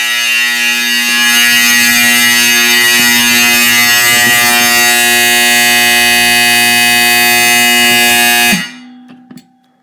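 A very loud, steady electronic fire alarm buzzer drones continuously with a harsh harmonic tone for about eight seconds, then cuts off abruptly, leaving brief faint rattles.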